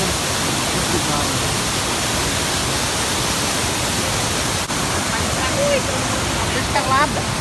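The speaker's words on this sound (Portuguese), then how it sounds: "As pedras da Cachoeira da Capivara." Steady broadband rush of the Cachoeira da Capivara waterfall in Chapada dos Veadeiros, a constant close roar of falling water over rocks that fills the whole clip, with a few faint bird chirps near the end.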